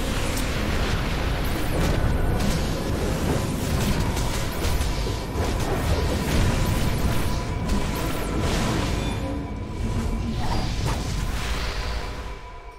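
Bombs blowing up in the DC Universe Online video game: a dense, loud wall of overlapping explosions, rumbling booms and crashing debris that runs continuously for about thirteen seconds, with no talking.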